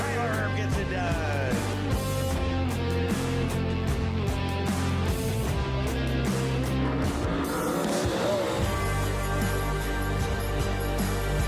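MARS late model race cars roar around Spoon River Speedway, a continuous loud mix of engine drone and whine with shifting pitches as the pack races through the turns.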